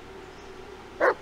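A dog in the Blair Witch video game gives a single short, loud bark near the end after a quiet stretch of low background hum.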